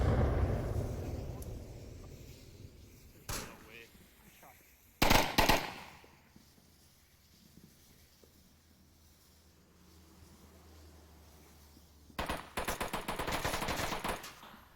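Gunfire in the VR shooter Onward during a competitive match: a sharp burst near three seconds, a loud volley around five seconds, then a dense rapid string of shots near the end, with quiet stretches between.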